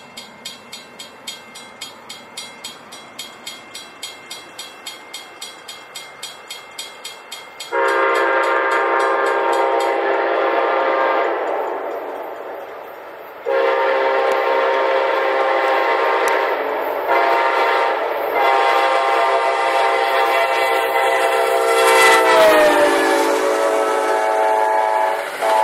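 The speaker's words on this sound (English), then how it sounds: "here comes another train." An Amtrak Silver Star passenger train heads southbound past a railfan spot. A run of regular rail clicks comes first, then loud, long horn blasts sound close and dominate, broken by brief gaps, with train rumble underneath.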